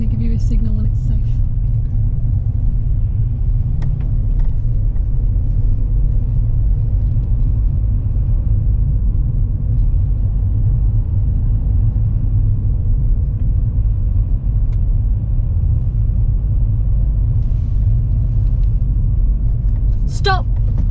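A car on the road during a driving lesson, heard from inside as a steady loud low rumble of engine and tyres that holds throughout, with brief faint voices near the start and end.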